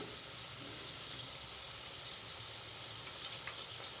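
Curry leaves and green chillies fry in hot oil for Cabbage 65, a steady hissing sizzle, fairly quiet and continuous, with no talking.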